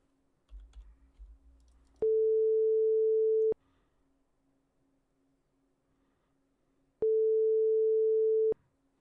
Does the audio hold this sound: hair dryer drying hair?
no